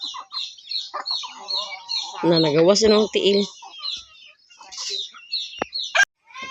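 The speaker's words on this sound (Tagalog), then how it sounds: "nadakpan na gyud guys ang manok" A hen clucks and squawks repeatedly in agitated bursts while being caught, loud and close, with a louder distressed cry midway; a person speaks briefly.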